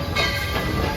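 A coal-burning steam train at the Dollywood theme park depot gives a brief, dense rumble with steady hissing and clattering, held at an even loudness for about a second before cutting off.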